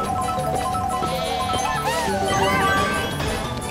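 Goat bleating in the Mario Kart Tour video game, London course: a short wavering bleat over kart engine hum, music and jingling coin sounds, fairly close and brief.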